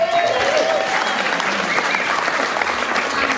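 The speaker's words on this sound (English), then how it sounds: "so give Gail a round of applause" Audience applause at a music hall of fame induction ceremony, dense and loud clapping from a packed crowd, sustained without a break, with a faint voice or whistle near the start.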